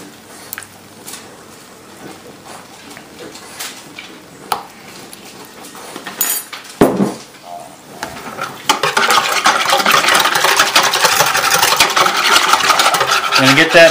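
Pizza dough being mixed by hand with olive oil in a bowl, a wet rubbing and rasping sound that starts as scattered soft scrapes and then turns into steady, louder continuous squishing and scraping up close.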